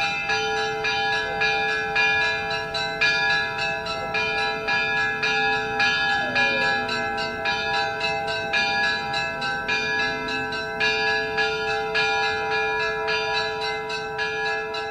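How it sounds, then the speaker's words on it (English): Hand-rung bells of a Russian Orthodox church peal continuously with sustained, layered tones and repeated strikes, loud and steady throughout, with other bells across the city audible in the mix. "these bells on the Russian church just started going"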